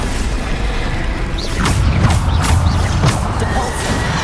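In Hogwarts Legacy, Bombarda spells go off in a rapid series of booming, crunching blasts amid clattering mechanical combat noise, loud and close.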